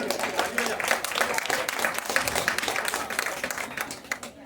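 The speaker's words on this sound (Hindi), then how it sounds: "हमारे साहब साहब का थोड़ा हौसला और बढ़ाने के लिए एक बार फिर से तालियां" An audience claps steadily for a shayari poetry recital, with dense, continuous applause holding at an even level throughout.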